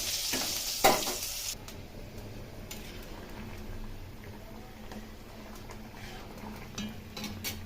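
Fish curry gravy with potatoes and carrots bubbling in a pan, a loud burst of sizzle and clatter at the start settling into a steady low simmering hiss with faint stirring ticks.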